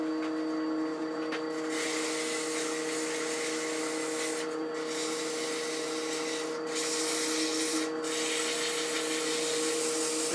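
A small wood turning is sanded on a lathe, giving a steady, continuous abrasive rubbing over a constant motor hum. It runs close and even throughout, with a few brief dips.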